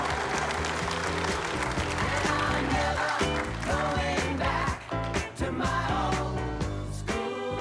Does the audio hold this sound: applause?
yes